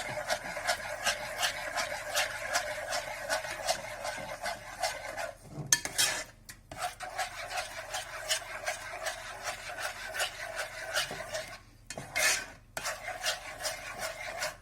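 A spoon scrapes and stirs cherries through a thickening mixture in a pan, giving continuous rasping strokes in a quick rhythm, close and fairly quiet, with two brief pauses.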